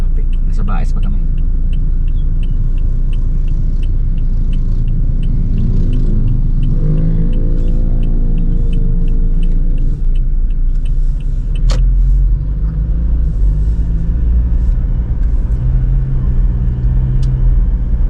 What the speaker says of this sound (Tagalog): Traffic pa, traffic.